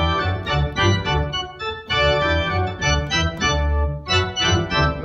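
A church pipe organ plays at full volume with every stop out, thick sustained chords moving through the first line of the Hallelujah Chorus, loud and close, with no voices.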